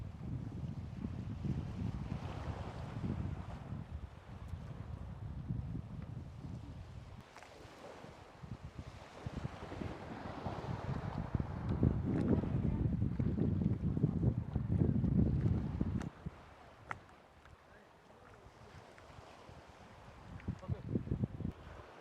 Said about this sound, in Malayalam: അപ്പോൾ ഇതാണ് നമ്മുടെ ഗ്ലാസ് ബോട്ട് എന്ന് പറയുന്നത്.